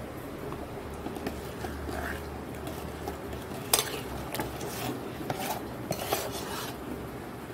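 Thick homemade pickle being stirred in a pot, with steady scraping and stirring scrapes, occasional sharp utensil clinks against the metal, and a low continuous background hum throughout.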